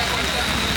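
Rain falls in a dense, steady hiss across a short moment, close and loud, with faint crowd chatter blended underneath.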